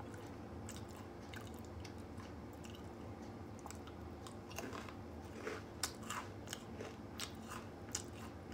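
Quiet, close-up crunching and chewing of almond toffee with irregular crisp bites, growing a little sharper toward the end, with no talking.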